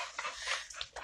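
A dog whimpers in short, high, breathy whines, close and fairly loud, repeating several times over about a second.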